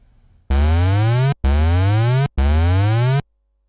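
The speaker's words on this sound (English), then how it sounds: "Now you can hear the pitch of the oscillator is being affected by another oscillator" A Sylenth1 synth oscillator has its pitch modulated by an LFO, giving three loud sustained buzzy notes, each sweeping steadily upward in pitch and separated by short gaps.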